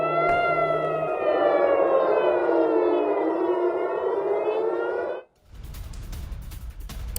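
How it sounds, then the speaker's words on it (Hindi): An air raid siren wails loud and sustained over Tel Aviv after a missile attack, its rising and falling tone holding for about five seconds before cutting off abruptly into street noise. "मिसाइल अटैक के बाद सायरन गूंजा।"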